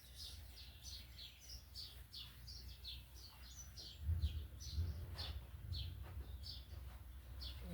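Small birds pecking at scattered wheat grain chirp repeatedly in quick, high bursts, fairly faint against a low background hum, with a few louder rustles partway through.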